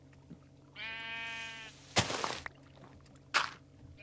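A Minecraft sheep gives one drawn-out nasal bleat on a mountaintop, followed by two short bursts of noise in an otherwise quiet scene.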